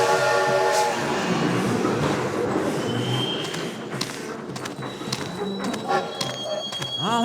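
A train rumbles steadily in the Lionel Trains Trans Con video game, a loud, continuous clattering roll with ringing tones and a horn-like tone, fading slightly midway, with no one speaking.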